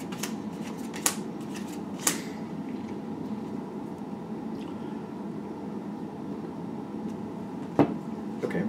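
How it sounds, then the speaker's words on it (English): Tarot cards are shuffled in soft, papery riffles and slides, with a few sharp snaps standing out, fairly quiet and with no talking. "Okay, I'm going to shuffle these cards."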